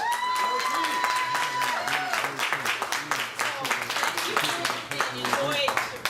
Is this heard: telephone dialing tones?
no